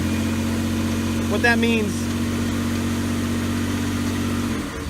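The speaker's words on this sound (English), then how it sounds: "Rev the engine with the loads off." A car engine runs at a steady high idle, revved with lights, radio and other electrical loads off during a battery and alternator test, with a brief voice speaking over it near the start.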